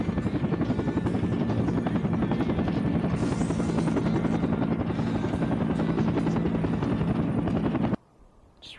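Helicopter rotor from the video game Air Conflicts: Vietnam, a loud, steady droning chop with engine whine running continuously for about eight seconds before cutting off abruptly.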